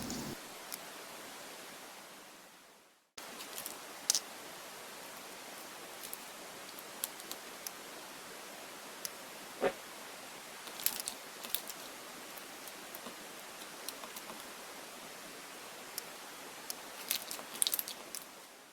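Hard slime being handled and squished up close, giving soft, crackly squelches and little pops that continue steadily throughout with no talking.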